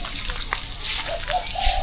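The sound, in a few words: water running from tap to fill a pool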